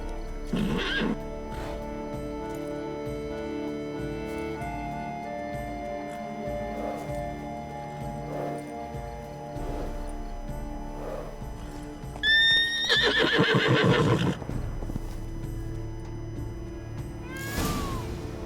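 Horse in The Witcher 3 video game whinnying several times, with clip-clop hooves and faint ambient game sounds, moderately near, the loudest neigh bursts coming near the end.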